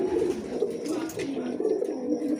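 Pigeons coo softly in a loft, with low, continuous cooing close by and quiet voices talking over it.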